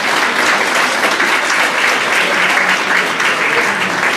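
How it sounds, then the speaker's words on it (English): An audience claps steadily for students who earned their Duke of Edinburgh Award, a dense, sustained round of applause at full strength from start to finish, with no voices breaking through. "So I think that deserves a round of applause."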